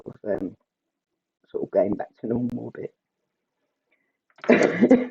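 A single loud, close sneeze bursts out after a woman's short stretches of talking, standing apart from the speech near the end.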